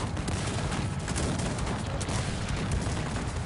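A Cossacks 3 battle between Turkish and Algerian armies of grenadiers, cannons and infantry rages as a dense, continuous crackle of massed musket volleys, with deeper cannon booms mixed in and no letup.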